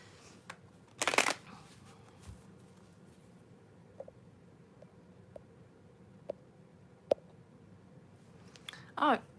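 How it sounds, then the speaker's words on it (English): A deck of tarot cards is shuffled near the microphone in a loud riffling burst, then clicks and taps as the cards are handled, with another short shuffle at the end. "let's shuffle these bad boys again"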